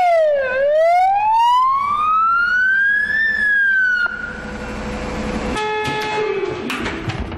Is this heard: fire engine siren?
yes